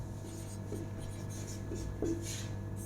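Chalk or marker scratching on a board during a Hindi grammar lesson, a few short strokes over a steady room hum with no clear talk.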